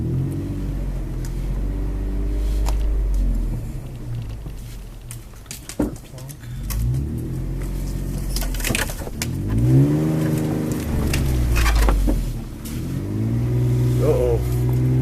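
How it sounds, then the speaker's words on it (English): A car rolls over debris on a rough track at Keystone Mines, its engine rumbling steadily with thumps and scrapes from underneath, while people talk over the noise throughout. "I think I'll just drive over it."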